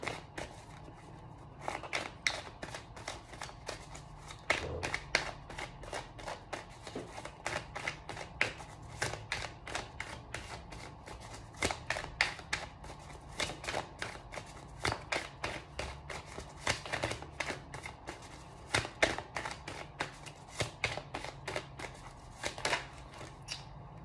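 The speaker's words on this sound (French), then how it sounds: "On va prendre l'oracle d'Amandine. On va tirer peut-être 2-3 cartes." An oracle card deck is shuffled over and over, giving a steady run of crisp, close riffling and slapping card sounds with no talking.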